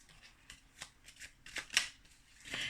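Belline oracle cards shuffled by hand for a reading, giving soft, irregular papery riffles and slaps, close and fairly quiet, with no talk.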